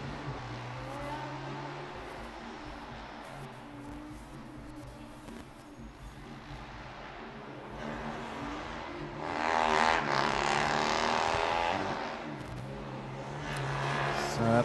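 A Formula Student race car at an endurance finals event drives a lap, its engine note rising and falling as it passes, growing louder toward the end, heard at moderate distance.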